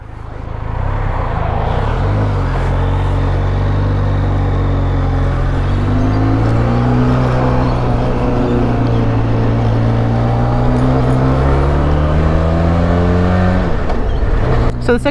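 Road traffic passes a motorcycle on a rainy Sydney road: a continuous loud engine drone rises in pitch as a vehicle accelerates, under steady road and wind noise, ending with a brief clatter.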